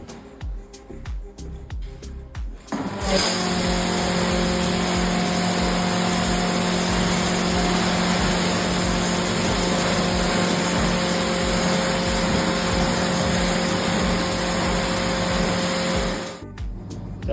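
A loud, steady hiss and motor drone of a pressure washer rinsing shampoo off a car, starting after a few clicks and running continuously before cutting off.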